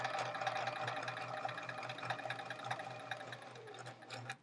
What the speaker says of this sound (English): Just sewing along.